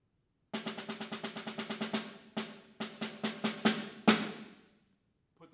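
Snare drum struck in a steady run of single strokes with no rolls, a sharp crisp hit on each beat followed by a short rest and a second group of louder accented strokes, ringing close and alone.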